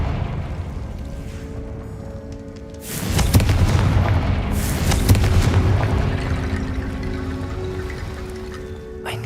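A Confringo explosive spell goes off in Hogwarts Legacy, a sudden loud boom that swells into a long rumbling, crackling blast lasting several seconds over a steady background hum.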